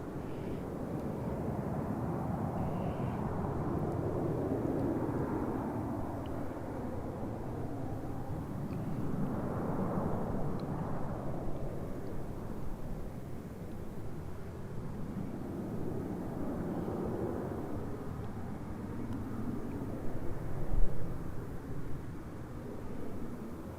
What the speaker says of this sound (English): we do have a 737 on the other side of the airport